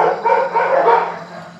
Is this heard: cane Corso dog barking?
yes